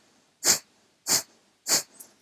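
Three sharp, forceful nasal exhales come at an even pace about half a second apart, with a faint fourth puff trailing after, during an alternate-nostril breathing exercise in an aerial yoga session.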